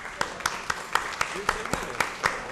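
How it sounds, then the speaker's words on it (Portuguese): Applause at a public hearing on municipal sidewalks comes from a small, sparse group, with individual claps landing in a steady, evenly spaced rhythm at moderate volume. "Pedir uma salva de palmas para o Marcelo"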